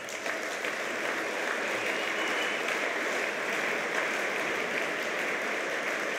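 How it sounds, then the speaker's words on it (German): Sustained audience applause fills a party congress hall, a steady dense wash of clapping at even loudness throughout with no voices rising above it. "Applaus"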